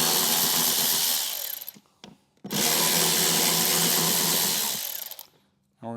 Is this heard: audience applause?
no